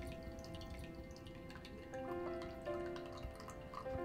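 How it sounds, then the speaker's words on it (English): Brewed loose leaf tea is poured through a strainer into a cup, a soft continuous trickle with small drips and clinks, quiet and close. "Then you can pour your tea into your favourite cup."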